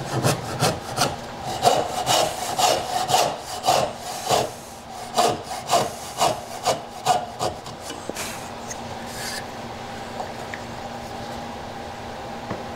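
A hand saw cuts wood for a dovetail joint in close, rhythmic back-and-forth strokes, about a dozen rasping pulls over eight seconds before the sawing stops and the room falls quiet.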